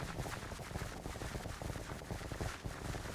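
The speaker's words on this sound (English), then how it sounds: "Look at all those bullets going everywhere." Rapid gunfire from clay soldier armies battling aboard a pirate ship in the Minecraft Clay Soldiers mod, a constant dense clatter of shots with no clear gaps, fairly faint throughout.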